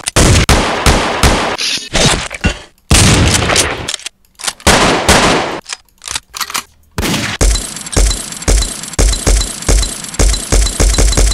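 Gunshot sound-effect samples played in FL Studio during beat making, loud sharp bursts in rapid clusters separated by brief silences, then a steady rhythmic run of repeated shots.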